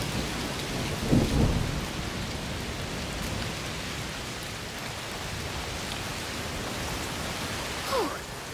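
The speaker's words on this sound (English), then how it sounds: "Oh, it's raining a lot." Heavy, steady rain hisses throughout in the video game A Plague Tale: Requiem, with a deep thunder rumble near the start and a fainter crackle of thunder near the end.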